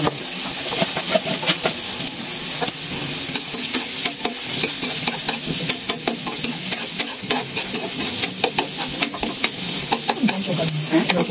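Onion and garlic fry loudly in a pan for a sardine-mackerel soup, a dense steady sizzle and hiss with frequent small clicks and stirring scrapes throughout.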